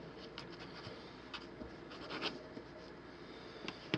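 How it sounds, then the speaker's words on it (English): Knife cutting biscuit dough into squares on a surface, faint scattered scraping and soft tapping strokes against a quiet background hiss, with no talk. "Lacking a biscuit cutter, so I'm going to just cut square biscuits."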